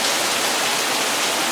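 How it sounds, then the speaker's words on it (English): Heavy rain pours down steadily around a wet LS-swapped Porsche 944 on new tires, a loud, dense and unbroken wash of noise with no voices. "and it's really pouring down rain"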